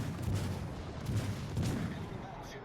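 Warship guns fire in World of Warships Legends, with the Mainz cruiser in battle, heavy booming salvos repeating at roughly half-second intervals over a dense rumbling background.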